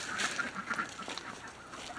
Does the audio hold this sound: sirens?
no